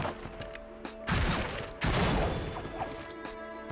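The Wild Shot attack in the game Battle Chasers: Nightwar lands as two heavy crashing impacts in quick succession over a quiet bed of game ambience, with the second burst trailing off gradually.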